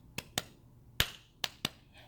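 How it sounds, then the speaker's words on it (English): Five sharp, close hand claps or snaps in an irregular rhythmic pattern, each a crisp isolated crack with quiet gaps between, alone in a quiet room. "patterns where you were clapping"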